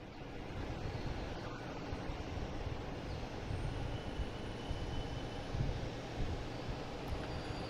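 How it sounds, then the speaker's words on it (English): A Turkish Airlines Airbus A350-900 arriving from Istanbul produces a steady, moderately loud broadband roar with low rumble. The sound stays fairly constant throughout, with no talk over it. "we have Turkish Airlines coming in here from Istanbul"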